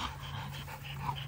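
A female breeding dog pants steadily and close by, a continuous rhythmic breathing over a low background hum, with no one speaking.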